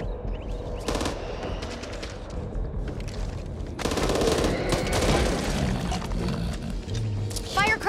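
Rapid bursts of gunfire crackle in the video game Back 4 Blood, then a heavier grenade blast rolls in with continuing shots and effects.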